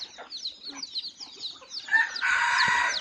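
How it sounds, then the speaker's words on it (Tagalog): A black hen in a rural provincial yard clucks in a short series of nearby calls, followed by a louder, sustained crow-like cry from the flock. "Ari tatay ay, yung itim. Inahin yan."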